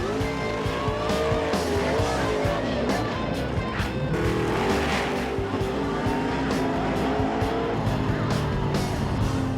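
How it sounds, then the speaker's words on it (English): A Chevrolet Camaro makes a Nostalgia Pro Street drag race run at a drag strip, its engine roaring loud and continuous with wavering pitch, mixed with crowd and track noise throughout. "Dale drove Mark's Camaro through more 7-second runs on his way to a spot in the finals of Nostalgia Pro Street."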